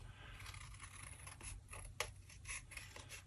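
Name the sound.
scissors trimming a photo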